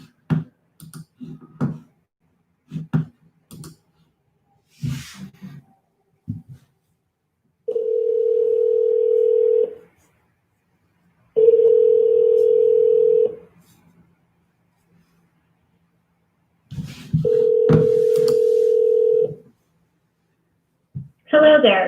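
Touch-tone keys are dialed for an outgoing call to a cell phone, a quick series of beeps followed by three long, evenly spaced ringback tones separated by silence, with a burst of faint clicking between them.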